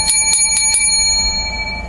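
A high-quality hand bell rings four quick times in succession, bright and close, with metallic tones lingering and slowly fading afterward.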